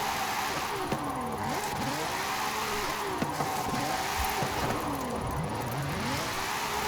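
An all-wheel drive car in Forza Horizon 5 accelerates hard, its engine rising in pitch through repeated quick gear changes, a loud and close whine that climbs, drops and climbs again under faint background noise.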